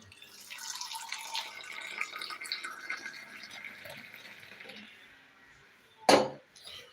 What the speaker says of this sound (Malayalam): ഫേവറേറ്റ് ക്ലാസ്സിലേക്ക് ഒന്ന് ഒഴിക്കാം ഒഴിക്കുന്നു